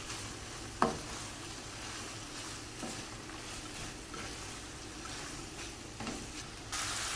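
Finely sliced vegetables seasoned with salt and pepper, stir-fried over a high flame: a steady, even sizzle throughout, broken by a few spatula knocks and scrapes, close and moderately quiet.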